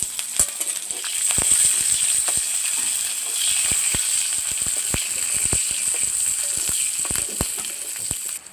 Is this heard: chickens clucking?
no